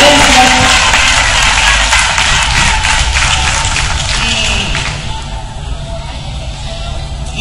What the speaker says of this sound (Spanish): para quien pide un fuerte aplauso